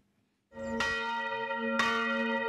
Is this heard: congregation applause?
no